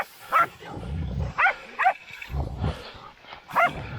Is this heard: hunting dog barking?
yes